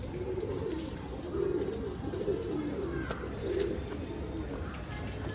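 Racing pigeons coo steadily inside a tournament-winning loft in Bangalore, a soft repeated low warbling that swells in several bursts over a constant background hum.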